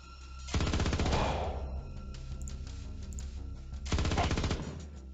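Gunfire in the video game Star Traders: Frontiers: two loud, rapid bursts of automatic shots, the first longer, separated by a quieter stretch, no talking.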